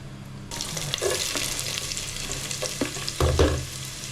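Onion, garlic and tomato paste sautéing in a pan: a sizzle starts abruptly, joined by scattered spoon scrapes and knocks, with a louder burst of stirring near the end; close and unaccompanied by speech.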